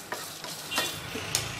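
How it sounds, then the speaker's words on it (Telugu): Dried red chillies frying in a pan with a little rock salt for a seasoning, a short close burst of sizzling with light stirring scrapes, and no voices. "ఈ ఎండుమిర్చిని మనము ఫ్రై చేసుకుందాము దోరగా."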